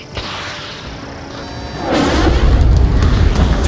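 A target blows up in the jet combat game Ace Combat 7, a loud booming blast with a rushing swell that builds and sustains for a few seconds, with no speech.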